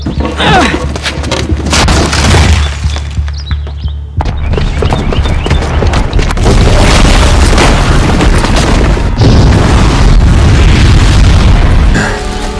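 A bomb booby trap detonating in the video game Horizon Zero Dawn: loud, sustained rumbling blasts with heavy booming impacts and crackling debris, a brief dip around four seconds, then continuous roaring explosions to the end.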